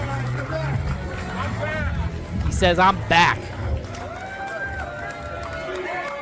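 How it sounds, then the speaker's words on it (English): Crowd cheering at an SPW wrestling event for the returning wrestler Sanders, a steady roar of the audience under a commentator talking, with louder shouts rising briefly near the middle. "you can hear the SPW Universe giving it up for the returning Sanders right now"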